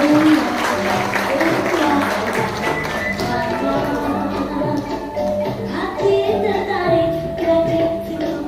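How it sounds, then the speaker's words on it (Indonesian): Guests at a PMII Rembang inauguration reception applaud the general chairman, clapping mixed with loud music and crowd noise throughout, with voices audible in the background. "Beri tepuk tangan yang meriah untuk Ketua Umum PBPMI."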